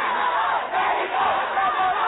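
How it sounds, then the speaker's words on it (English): A crowd of Mexican and Salvadoran teenagers at a student walkout chant together in unison, a loud, dense wall of voices that swells and dips continuously. "the crowd of teens of Mexican and Salvadoran descent chanted in unison"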